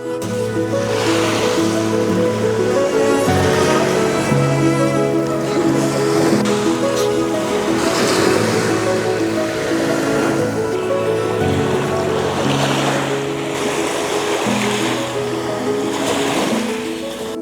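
Ocean waves break on the shore at a beach in Victoria in April, a loud, steady wash of surf rolling on for the whole stretch, with a sustained tonal layer running alongside it.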